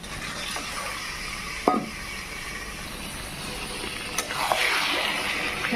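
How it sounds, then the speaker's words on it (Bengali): Meat frying in a pan with spiced masala makes a continuous sizzling hiss, broken by a few sharp scrapes and clinks of stirring. No voices are heard. "মাংসগুলোকে ভালো করে ভেজে নেব"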